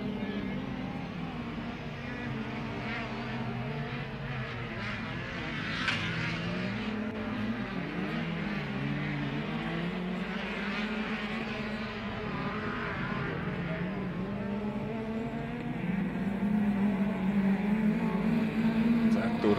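VAZ Klasika race cars run the final heat of an autocross event at Smiltene, their engines droning and revving at a distance under continuous commentary.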